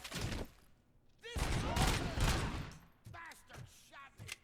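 Gunfire from the RoboCop Rogue City video game comes in several loud bursts between stretches of shouted voices and echoing effects.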